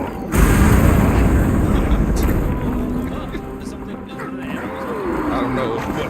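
Bombs go off in a video game with a sudden loud boom followed by a long deep rumbling roar that slowly fades, close and heavy, with a voice speaking over the tail.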